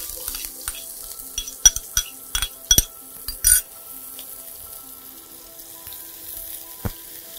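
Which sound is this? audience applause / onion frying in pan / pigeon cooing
onion frying in pan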